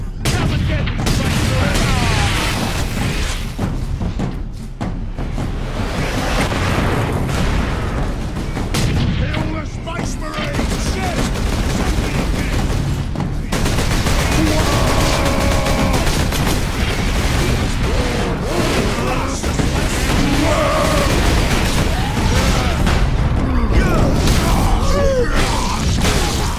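Gunfire in Warhammer 40000 Space Marine, loud and relentless bursts of rapid shooting and booms that rattle on across the whole stretch, mixed with shouted voices and battle noise.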